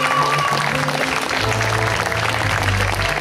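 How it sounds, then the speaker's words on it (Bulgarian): An audience claps steadily, a dense unbroken wash of applause with music sounding underneath. "Аплодисменти и за тях!"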